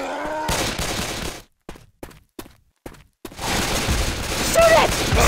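Bursts of rapid gunfire are aimed at the Tank in Left 4 Dead 2: a long loud volley, then several short separate shots with gaps between them, and finally a sustained barrage, with shouting voices mixed in.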